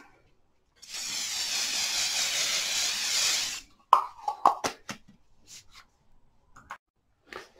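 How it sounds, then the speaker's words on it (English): Hairspray hisses from an aerosol can in one continuous burst of nearly three seconds, sprayed close onto a pastel drawing, followed by a few light taps and clicks. "So I'm going to fix it with some hairspray and then work back into it."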